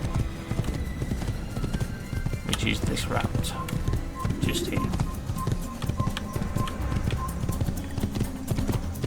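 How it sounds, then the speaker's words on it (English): A horse gallops in Assassin's Creed with steady clip-clop hoofbeats and an occasional whinny, heard alongside game music and someone talking over it. "Jump back on the horse. And away we go."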